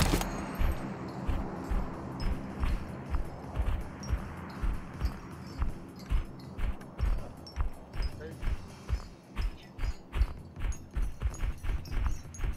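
A horse in a video game trots with a steady rhythmic clip-clop of hooves, loud and close throughout, while people talk over it.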